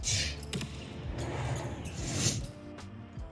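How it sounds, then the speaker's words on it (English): Basketball dribbled in an edited sports reel, a few sharp bounces thudding in quick succession, mixed with whoosh effects and a busy background. "you hear the whip, there's a dribble"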